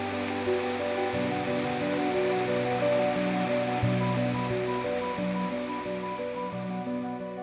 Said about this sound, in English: Down here, it's just these stair-step waterfalls that are so pretty.